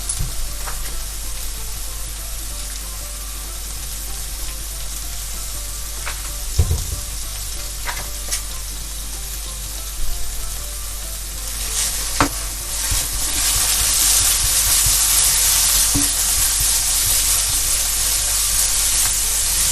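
Carrot halwa stirred in a pan with ghee gives a continuous close sizzle and hiss, with occasional scraping clinks of the spoon against the pan.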